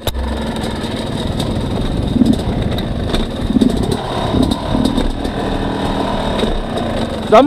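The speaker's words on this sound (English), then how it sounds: "I deliberately kept the engine at a very low RPM, but it stalled at 1200 RPM." An XTNG GEN3+ 38 motorcycle engine putters at very low RPM near stalling, a close, steady idle with uneven low throbbing throughout.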